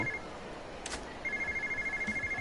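A mobile phone rings in the Yakuza 0 video game, a shoulder-bag style phone giving a steady, pulsing electronic ring that repeats over the second half, clear against a low game-ambience background.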